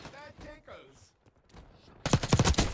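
Short burst of Jackal PDW submachine gun fire in Black Ops 6, a quick cluster of loud cracking shots arriving abruptly after a quieter stretch of faint game sounds and a voice.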